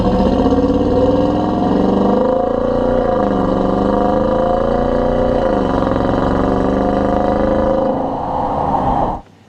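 A 2015 Dodge Durango R/T exhaust rumbles deep and throaty for about nine seconds, swelling and dipping as the revs rise and fall, loud and close, then cutting off abruptly.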